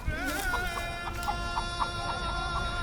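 A rooster clucks in a series of short repeated calls over a steady tonal hum, fairly faint and without talk.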